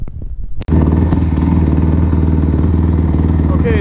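A 2007 Kawasaki KX250F motocross bike with a carburetor being tuned for a lean bog off idle starts up after a few sputters, then settles into a loud, steady, close-up idle with a regular pulsing beat.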